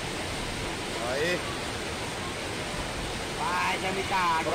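Strong floodwater rushes during cyclone flooding as a loud, constant roar of water, with people's voices heard over it.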